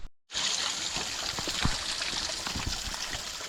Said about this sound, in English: There's a stream down here, some rocks